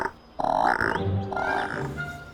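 Cartoon frog in a forest croaking, two drawn-out, tonal, throaty calls close up with no talking.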